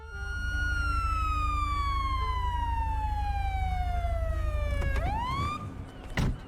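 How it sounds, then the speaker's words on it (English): An undamaged police car siren in GTA 5 wails loud and close, a single long descending tone that sweeps back up, followed by a brief knock and a short noisy burst. "When you shoot at police car sirens, they don't just stop working."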